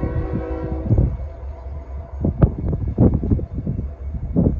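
An NS 202 freight train led by a Union Pacific SD70ACe locomotive rumbles past outdoors. A horn blast with steady tones opens it, followed by a heavy low rumble and clanking rail noise at close range, with no voices.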